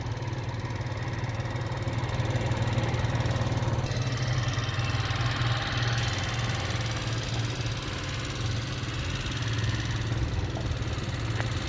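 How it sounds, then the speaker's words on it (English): A small 1985 Yamaha Riva 125cc scooter engine buzzes steadily and loudly throughout, revving up slightly as it accelerates away, with no voices. "give you guys a little sample of how quick the acceleration is on these"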